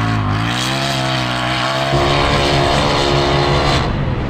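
Long-travel four-seat Can-Am Maverick X3 XRS RR and Polaris RZR Pro XP side-by-sides racing, a loud close engine roar that climbs in pitch, then holds a harsh steady howl.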